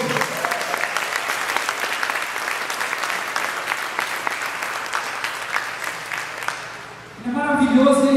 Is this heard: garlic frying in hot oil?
no